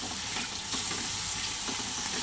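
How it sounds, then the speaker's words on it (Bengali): Water poured into a cooking pot, a steady rushing gush that runs unbroken and fairly loud for the whole moment. "জল দিয়ে দেবো।"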